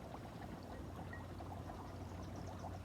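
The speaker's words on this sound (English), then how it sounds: "So I got a whole lot of bubbles going on right here." Dry ice bubbling steadily in water, a soft continuous fizzing and gurgling at low volume with no talk.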